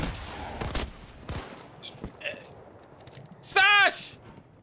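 Gunfire in the video game Battlefield 2042, a few short sharp shots and bursts scattered among excited talk, with a brief tonal game effect near the end.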